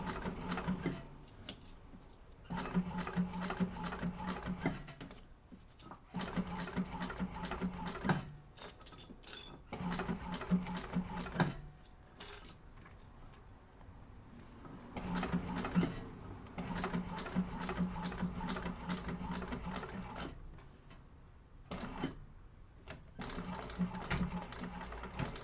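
A sewing machine stitches panels of a Deskasow organizer bag during a sewing class, running in repeated bursts of rapid, steady stitching broken by short pauses, at moderate volume throughout.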